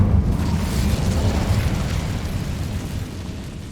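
A fiery Incendio spell burst in Hogwarts Legacy, a loud broad whooshing roar that starts at full strength and slowly fades over several seconds, with no talking.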